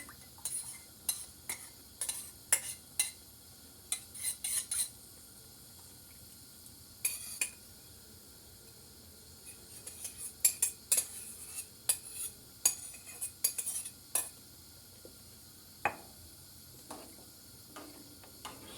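Spoon stirring melted tomato paste into a pot of pasta sauce, with repeated light metallic clinks and scrapes in irregular bursts, close and fairly quiet against a low hum.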